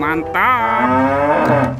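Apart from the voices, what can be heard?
cow mooing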